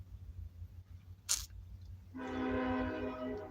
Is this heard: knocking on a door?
no